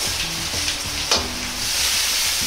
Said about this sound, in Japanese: 野菜全体に油とひき肉を絡めていくようにして炒めます。